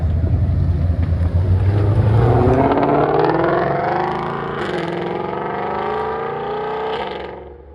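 A BMW E92 fitted with a high-rise rear wing roars past loudly on Mulholland Highway, its engine note building and then holding as it goes by, with a wind rush behind it and no voices.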